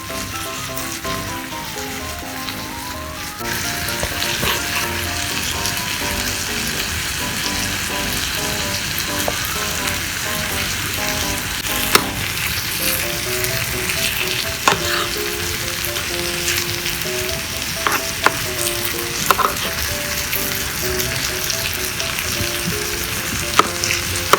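Pork fried rice with garlic butter and seasoning sauce sizzles loudly and steadily in a hot pan with no oil added. Occasional scraping and tapping stirs sound up close throughout, with no talk.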